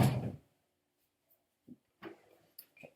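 A drawer of a 20-drawer storage cabinet slides open with a brief scraping rush at the start, then quiet, followed by a few soft clicks and light knocks as it settles.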